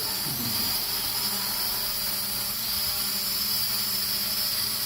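A Hubsan 502E drone flies continuously with a steady high-pitched whine and hiss from its motors and propellers, nearby and unbroken throughout.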